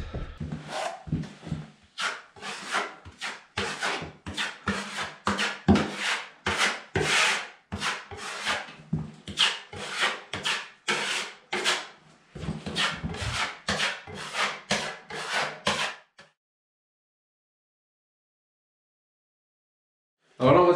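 Joint compound spread over screw holes with a putty knife, a long run of rhythmic close scraping strokes, then a sudden silence near the end.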